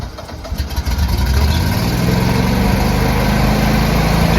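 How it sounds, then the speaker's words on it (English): A Generac home standby generator starts up and settles into a steady, loud engine drone that holds evenly from start to finish, with no voices over it. "we should see our Generac generator fire up"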